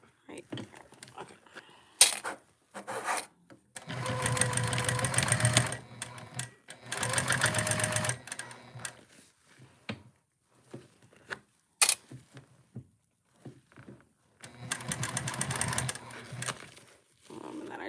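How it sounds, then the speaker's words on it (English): A sewing machine stitching the seam of a fabric heart bag runs in three long whirring bursts, with brief clicks and handling noises in the pauses between. "So I'm gonna just sew all that in now at a 3/8 seam allowance."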